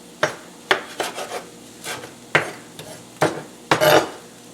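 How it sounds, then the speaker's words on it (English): Cut carrot, onion and plantain pieces tossed into butter in a pan, heard as a series of short scraping, clattering strikes of a utensil against the pan, spaced irregularly and fairly close. "we're just kind of like blanching things in the butter"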